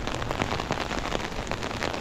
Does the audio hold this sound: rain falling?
yes